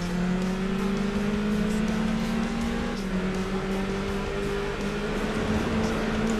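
Volkswagen Beetle race car in Gran Turismo 4 running on nitrous during a one-make Beetle Cup race, a steady droning engine held at high revs throughout with slight pitch shifts, close and continuous.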